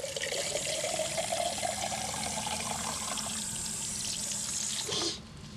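Well water contaminated with methane and heavy metals runs steadily from a tap, a continuous close rushing stream that cuts off abruptly near the end, with no talk.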